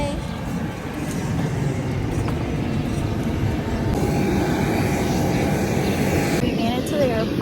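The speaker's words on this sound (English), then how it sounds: "We made it to the airport." Airport ambience with aircraft engines, a continuous loud roar and rumble of jet or propeller engines nearby, steady throughout without pause.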